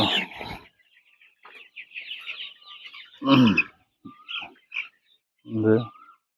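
Young broiler chickens cluck and squawk in short, uneven bursts close by, with quiet gaps between calls.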